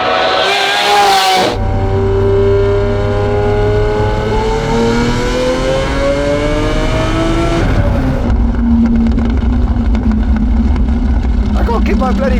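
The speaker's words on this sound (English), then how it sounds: "Listen to this exhaust." Lamborghini Aventador SV Roadster V12 exhaust on the Autobahn, loud and close, revving up through rising gears with a long accelerating howl, then a steady drone; someone talks briefly over it.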